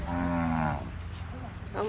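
Cattle being herded on a hot day by Thai villagers give a loud, close moo that lasts most of the moment, followed by a softer, shorter lowing call near the end.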